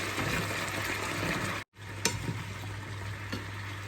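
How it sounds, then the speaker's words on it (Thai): Pumpkin pieces go into a pan of frying pork belly. Loud steady sizzling breaks off for a moment, then resumes with stirring scrapes and clinks over the continuous fry, and nobody speaks. "หมูสามชั้นเริ่มโอเคแล้วนะคะ ก็ใส่ฟักทองลงไปเลย"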